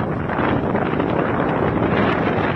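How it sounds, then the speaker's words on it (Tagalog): Strong typhoon wind from Bagyong Julian in Batanes, a continuous loud roaring rush buffeting the microphone with no letup. "Rinig na rinig ang pagugupit ng malakas na hangin"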